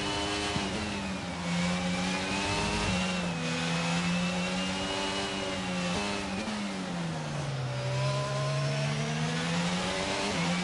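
Ferrari Formula 1 car engine at Silverstone in the F1 22 racing game, a loud continuous high-pitched whine rising and falling as it revs through gear changes, with no voices.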